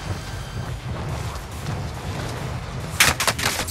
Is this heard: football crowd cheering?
no